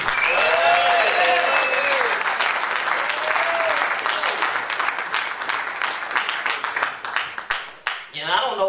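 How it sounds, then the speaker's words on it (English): An audience applauds at a jazz concert in a Jersey City library. The clapping is loud and dense at first, with a voice over it, then thins out and tapers off. "Please, a wonderful, wonderful round of applause, Mr. Lee Hogan."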